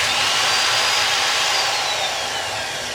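An old high-speed electric drill, owned about 45 years, running steadily at full speed with a loud, continuous high-pitched whine and no talking, fading slightly toward the end.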